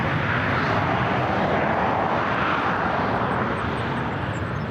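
An Air Canada Rouge airliner takes off at Toronto Pearson airport, giving a steady, loud, broadband jet roar that holds constant throughout without pause.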